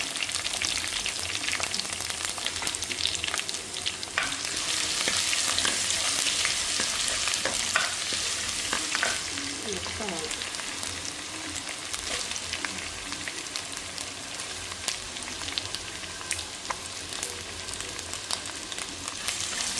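Curry leaves spattering in a hot pan for a Kerala-style beef liver curry, a continuous crackling sizzle with scattered sharp pops and occasional stirring scrapes, steady and fairly quiet, no voices.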